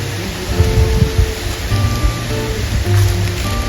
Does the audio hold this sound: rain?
yes